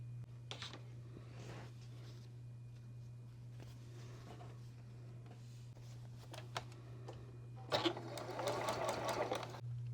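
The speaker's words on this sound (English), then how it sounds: "So I'm ready to sew these now." A sewing machine stitching fabric scraps together for a quilt, quiet intermittent bursts of rapid mechanical whirring over a steady background hum, with a voice speaking between runs.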